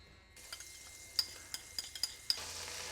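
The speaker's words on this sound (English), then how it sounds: "just going to place our pieces of fish in" Coral trout pieces going into a medium pan of melted butter with ginger and garlic, a soft sizzle rising after a quiet start, punctuated by several sharp clinks and taps of utensils against the pan.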